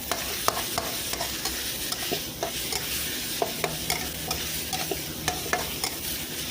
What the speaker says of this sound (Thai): ผัดผัดหมูให้สุกนะคะเพื่อนๆ